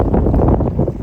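Wind gusts on the Chicago lakefront, a brief, loud, low buffeting rumble that pounds against the microphone with no voices.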